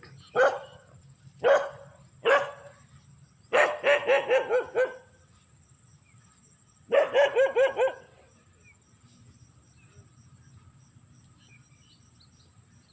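A dog in a rural rice-field setting barks in short bursts: three single barks, then a quick run of several, then another cluster, heard at moderate distance over a steady background of chirping crickets and insects.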